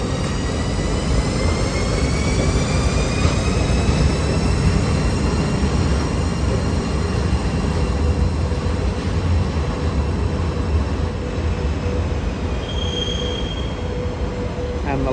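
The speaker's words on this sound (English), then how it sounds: "locomotive will stop at the end of the platform, presumably to be moved off somewhere else." Locomotive-hauled train pulling slowly into a Zurich station platform, steady loud rumble of wheels on rails with long, high squeals of braking wheels sliding in pitch throughout.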